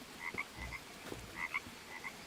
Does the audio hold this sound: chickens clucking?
no